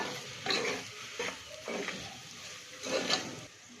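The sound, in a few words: stirring turmeric and salt into masala in pan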